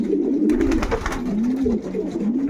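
Pigeons coo in a rolling, repeated rhythm close by inside a pigeon loft, the soft calls continuing steadily with no talk over them.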